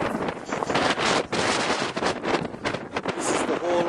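Strong wind buffets the microphone at the Forbidden City in Beijing, a loud, continuous, gusty roar with brief dips and surges.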